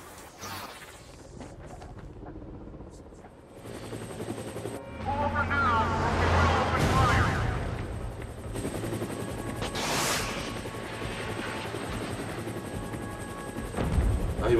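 Enemy gunfire in inFAMOUS First Light in a snowy area: bursts of automatic fire and explosive bangs over a droning helicopter-like hum, loud and continuous, with game effects layered throughout.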